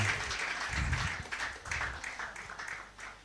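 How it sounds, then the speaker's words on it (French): A church congregation applauds in praise of Jesus Christ, a steady wash of clapping that swells and fades over a few seconds with voices mixed in underneath. "Est-ce qu'on peut applaudir pour le Seigneur Jésus-Christ?"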